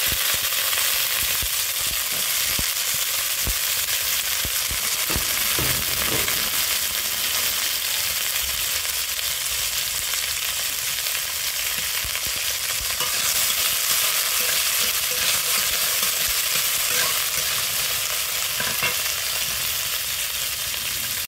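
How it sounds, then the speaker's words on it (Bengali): Potato and egg fry with turmeric and salt in a pan, making a loud, dense, unbroken sizzle with occasional stirring scrapes and no talk. "ভালো করে একটু ভেজে নেব"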